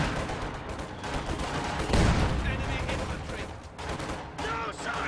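Heavy mortar and gunfire in a World War II strategy game battle, dense rumbling blasts and crackling shots with one heavy thump midway, while a commentator talks throughout.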